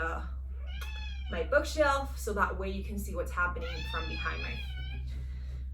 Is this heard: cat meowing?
yes